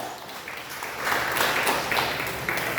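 A church congregation claps in praise during a service, a dense, steady wash of applause that swells louder partway through and carries on without a break.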